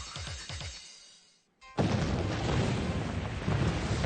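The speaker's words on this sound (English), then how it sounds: "An explosion causes rapid expansion, which gives birth to an unpredictable pressure wave" A sudden loud boom breaks a quieter stretch, followed by a sustained roaring rumble that keeps going at full strength.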